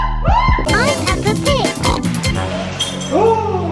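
A voice imitates a pig with a series of squealing, grunting oinks, loud and close, in short bursts.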